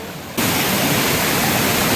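Katalkhada waterfall in Rajapur roars as a loud, steady broadband rush of falling water that cuts in abruptly after a brief quieter moment and then holds constant.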